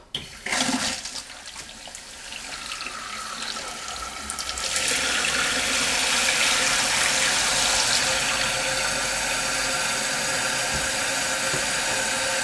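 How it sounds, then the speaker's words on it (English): A toilet flushes, then water rushes steadily and loudly as the tank refills, a continuous hissing flow up close. "I think we're ready to turn the water back on"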